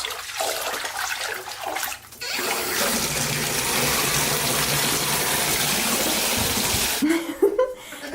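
Water gushes steadily from a tap into a bathtub being filled for a detox bath, a loud continuous rush lasting most of the stretch, with splashing and handling noises at the start and end.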